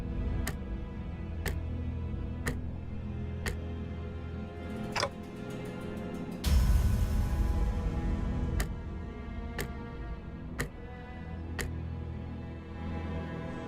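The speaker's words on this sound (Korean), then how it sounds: "째깍대는 소리가 빨라지는 걸 보니" A clock-headed enemy in the video game Limbus Company ticks with sharp, evenly spaced clicks about once a second, over a low droning score, with a loud burst of noise midway.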